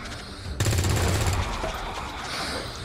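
Gunfire from a soldier shooting an alien in XCOM 2, a sudden loud burst of rapid shots lasting under a second before fading into a lingering rumble and game ambience.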